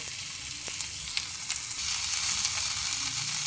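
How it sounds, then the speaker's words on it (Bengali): A marinated whole chicken for tandoori-style roast frying in a pan, giving a steady hiss of sizzling oil with a few light pops, growing slightly louder and fuller partway through as it is turned. "ভাজা হতে দেব উল্টে পাল্টে চিকেনের চারিদিকটা একটু ভাজা ভাজা করে নেবার পর"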